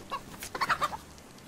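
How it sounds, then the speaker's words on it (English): A chicken in the survival video game DayZ clucks close by, several quick throaty clucks bunched together in a short burst over a quiet background. "I did feel kind of bad for killing this chicken that was straight up just vibing on the bench"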